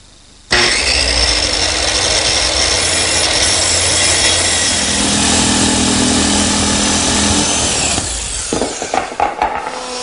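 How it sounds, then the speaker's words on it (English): A power tool cuts a through hole in wood for a router plate on a router station build, a loud sustained rough cutting roar that starts abruptly and runs steadily, then breaks into intermittent bumps and clatter near the end. "Now let's cut a hole for the router plate."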